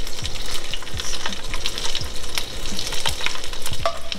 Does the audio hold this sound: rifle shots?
no